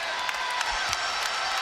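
Basketball arena crowd cheering at an Oklahoma City Thunder game: a steady, dense roar of many voices with scattered claps and whoops rising through it.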